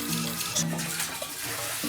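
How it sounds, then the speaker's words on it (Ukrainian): A toilet flushes in a small home bathroom, its water rushing and gurgling steadily close by for the whole stretch, with no voices over it. "Змивається вода."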